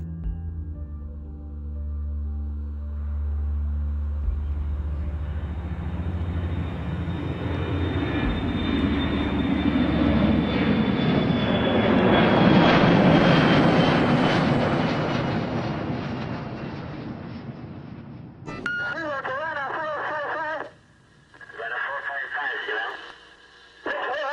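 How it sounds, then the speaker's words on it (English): A Cuban passenger jet bound from Barbados to Havana roars with a swelling engine rush that builds to a loud peak and fades, followed by crackly radio-style voices. "A Cuban passenger jet en route from Barbados to Havana crashed into the sea"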